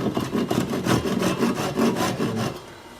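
A Japanese handsaw makes short, light starting strokes into wood, giving a rhythmic series of close, dry rasping pulls of about seven quick strokes with no voices.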